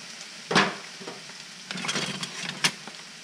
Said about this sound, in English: while all of our vegetables are sauteing here